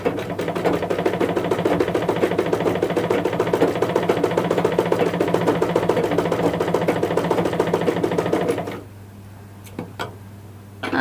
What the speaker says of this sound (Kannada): ಈಗ ನೆಕ್ಸ್ಟು ಇನ್ನೊಂದು ಹೊಲಿಗೆ ಹಾಕೋಣ